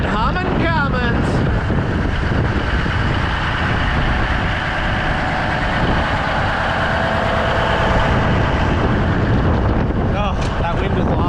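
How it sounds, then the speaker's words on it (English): A Cummins diesel engine in a truck hums steadily at idle, a loud continuous drone heavily buffeted by wind noise on the microphone throughout. "Listen to that humming Cummins."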